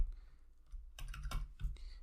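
Typing on a computer keyboard during an Ubuntu Server setup, a few soft scattered keystrokes followed by a quick cluster of sharper clacks and a final press, close and alone.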